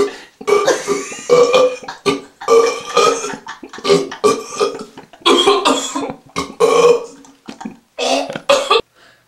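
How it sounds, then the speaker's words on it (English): Loud, drawn-out burps come one after another in bursts separated by short pauses, with no talking. "it's like the burping vomiting sound"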